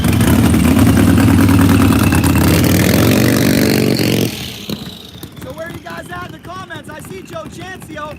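A Harley bagger motorcycle engine roars loud and sustained at a Darlington drag night, then cuts off abruptly as the sound drops to a lower rumble with crowd and announcer voices over it.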